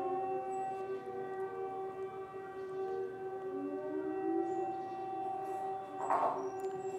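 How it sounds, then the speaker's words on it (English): Steady, droning air raid sirens in Ukraine wail continuously at moderate distance, their layered tones holding with slight pitch drifts. "These are air raid sirens."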